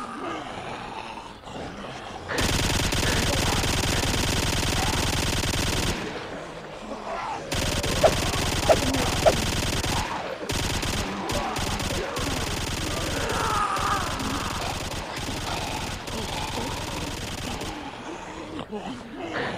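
Gunfire against a zombie horde in the survival game ApocZ, loud sustained bursts of shooting that stop and restart in long stretches, with voices talking over parts of it.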